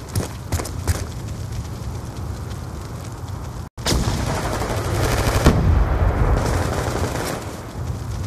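Gunfire in a Call of Duty multiplayer match, with sharp shots early on and then a dense, sustained stretch of automatic fire and impacts, loud and close throughout.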